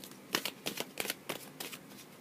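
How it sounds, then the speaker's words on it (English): A deck of cards is shuffled by hand, several quiet riffling bursts in an irregular rhythm, close and soft with no talk. "I'm just going to start to shuffle my deck"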